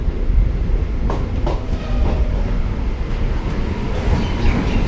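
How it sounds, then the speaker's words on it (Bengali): An Azimganj MEMU passenger train rolls into platform 3 at Murshidabad station with a loud, steady rumble and rattle of wheels and carriages, and a few sharper clanks along the way. "বহরমপুর কোর্ট রেল স্টেশনের পথে ট্রেন আর এই মুহূর্তে মুর্শিদাবাদের 3 নম্বর প্ল্যাটফর্মে প্রবেশ করছে।"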